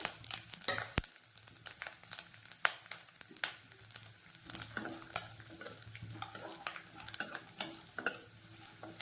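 Cashew nuts stirred and roasted in a pan along with coconut, a soft crackling sizzle broken by repeated scraping and clinking of a spoon against the pan, close and fairly quiet, with no talking.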